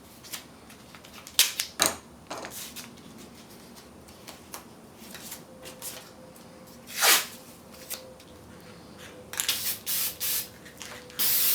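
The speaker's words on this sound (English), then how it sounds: "we'll mask off the transformer and spray it with black to make it look new." Black spray paint hisses from a can onto the masked-off transformer of a 1930s Zenith table radio, in several short separate bursts over a quiet room.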